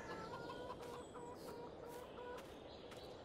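Chickens cluck in a coop in Farming Simulator 22, a quiet run of repeated clucks and short squawks over soft background noise, with no voices.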